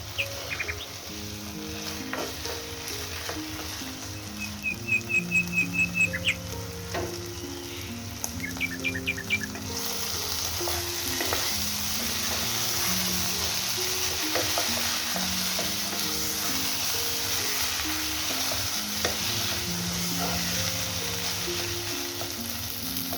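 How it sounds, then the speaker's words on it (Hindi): Mutton keema fries and is stirred in a pan with a continuous loud sizzle and scraping, which grows fuller about halfway through, while soft background music with chirping notes plays underneath. "आपने कीमे को अच्छी तरह से भूनना है कि सब चीज़ें जो हैं वो यकजान हो जाएं।"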